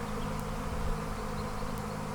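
A honey bee swarm clustered on the front of a hive hums in a dense, continuous drone, with a few individual bees buzzing close past the microphone.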